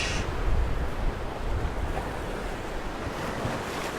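Storm waves driven by Tropical Storm Archer crash and surge along the Chesapeake Bay shore in Maryland, a loud, continuous roar of surf with gusting wind noise on the microphone and no talking.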